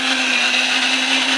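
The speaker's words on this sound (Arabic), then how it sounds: "والفاكهة اللي تختارها ان هو بيضربها لك كده في الخلاط" A blender at a Korean street fruit stall runs steadily at high speed, blending fruit with honey into juice, a loud continuous whirring motor hum with no talking.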